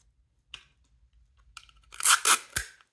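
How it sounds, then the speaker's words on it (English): Adhesive tape pulled off a roll and pressed down to join sheets of paper for a 12-by-12 craft project, a short rip at first, then a louder burst of tearing and crinkling near the end, close and with no talk. "And I'm just going to tape that together"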